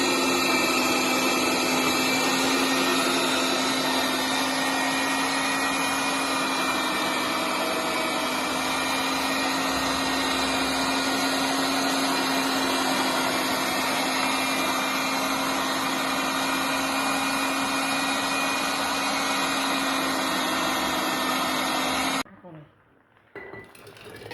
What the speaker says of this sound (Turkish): burada da makineyi çalıştırıyoruz. Makine sesi biraz kötü çıkıyor